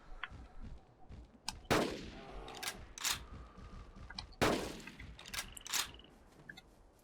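Gunfire from the dinosaur-hunting video game Carnivores: Dinosaur Hunt: two loud, sharp in-game rifle shots with ringing tails, separated by a few seconds, over a quiet ambient backdrop with small clicks and other game effects.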